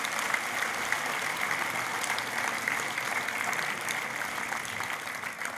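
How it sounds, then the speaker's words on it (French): Sustained applause from an audience at a civic ceremony, a steady wash of many hands clapping at moderate level, continuous and without talk. "Ça mérite des applaudissements aussi."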